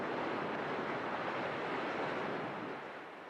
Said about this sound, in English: The waves wash it up on the beach.